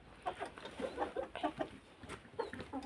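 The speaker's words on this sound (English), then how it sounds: "the progress of our chicken in our backyard at this moment" Backyard chickens clucking in a steady run of short, overlapping calls from several birds at close range, with no voices present.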